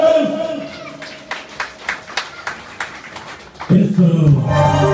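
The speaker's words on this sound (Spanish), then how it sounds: "para el señor Silvestre Basurto, Irma López, un fuerte aplauso para los padres de los niños, un fuerte aplauso, damas y caballeros" An audience claps for the children's parents at a baptism celebration, scattered bursts of applause heard under an announcer's amplified voice, followed by music rising near the end.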